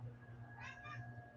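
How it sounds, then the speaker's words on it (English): A house cat called Moon Kitty gives two short, soft meows in close succession, heard faintly over a steady low electrical hum in a quiet room. "There's Moon Kitty walking in the background."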